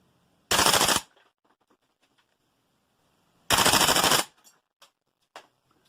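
A Tokyo Marui Type 89 gas blowback airsoft rifle fitted with a Hephaestus Heavy recoil kit fires two loud, rapid full-auto bursts of about half a second each, with faint clicks and clatter after.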